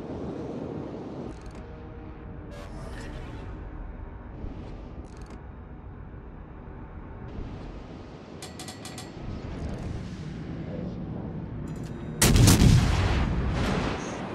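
Heavy naval guns boom from a warship in a naval battle game, with scattered distant rumbles over a constant low sea-and-engine drone, then a loud close broadside blast near the end.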